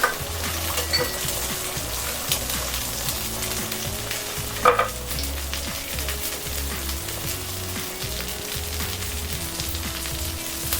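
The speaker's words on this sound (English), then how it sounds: "Just going to add our egg now, and we're looking for our egg to have a nice runny yolk." An egg fries on a hot cast iron griddle, a steady crackling sizzle running throughout with a sharp clatter near the middle, alone with no voices.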